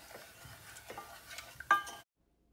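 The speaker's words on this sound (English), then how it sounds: "When you stir the custard" Custard being stirred in a pan on an Aga for trifle makes soft scraping strokes of a utensil against the pan, with one sharper clink near the end before everything stops.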